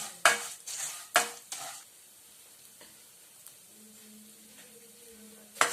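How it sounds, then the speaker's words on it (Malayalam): Vermicelli (semiya) roasts in ghee in a pan, several loud stirring scrapes and clatters at the start over a soft, steady sizzle, then quieter frying with a faint hum. "ഇനി നമുക്ക് സേമിയ ഇതിലേക്ക് ഇട്ട് കൊടുക്കാം. എന്നിട്ട് നമുക്കൊന്ന് ചെറുതായിട്ടൊന്ന് വറുത്തെടുക്കണം."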